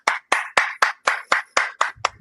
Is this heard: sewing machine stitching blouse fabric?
no